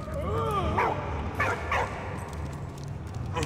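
A dog from the World War I video game Valiant Hearts gives a few sharp, high yips and whimpering barks in quick succession, close and clear over a steady game background, with someone talking over parts of it.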